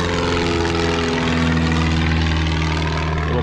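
A small Piper Arrow propeller plane drones loudly and continuously overhead, a steady buzzing engine rumble with no voices.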